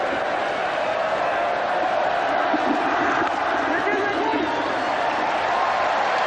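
Large cricket crowd at Eden Park during a 1992 World Cup semi-final between Pakistan and New Zealand, a steady continuous roar of many voices with cheering swells, sustained and loud throughout.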